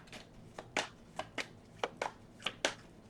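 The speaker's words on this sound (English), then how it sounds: "One more shuffle." A deck of tarot cards being shuffled in a series of crisp, riffling bursts at close range, about eight quick flutters with short pauses between.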